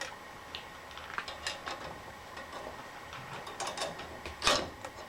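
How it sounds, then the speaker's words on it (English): A big hose clamp being cranked tight on a steel arrowhead build, faint irregular metallic ticks and clicks of the screw turning, quiet and close with no talking. "we're going to take a hose clamp, big hose clamp, and we're going to crank down on this."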